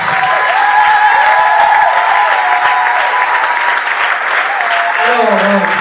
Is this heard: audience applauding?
yes